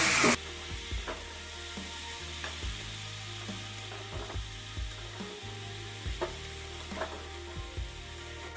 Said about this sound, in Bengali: এটা দিয়েও আমি আবার একটু কষিয়ে নেব।